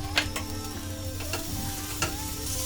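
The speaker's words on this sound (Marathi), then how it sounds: "आल्याचे 4 तुकडे टाकतले भाजूक टाकायचे आणि परत लसणीचे हे 10 पाकळे घेतलेले भाजूक टाकायचे" Ginger pieces and garlic cloves roast with onions in a pan for a Malvani goat intestine masala, a steady sizzle broken by a few short stirring scrapes and clicks, close and fairly quiet.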